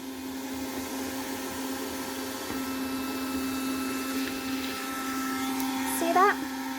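A Kärcher handheld window vacuum running over condensation on glass, a steady close motor whine with a faint gurgle as water is sucked up, a brief higher squeal near the end, with a voice talking over it.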